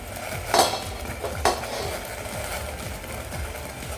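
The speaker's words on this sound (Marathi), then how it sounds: "आता मी झाकण काढून घेते." A lid lifted off a steamer pot after steaming rice-flour fare, giving two quick metallic clanks over a steady hiss of steam and background noise.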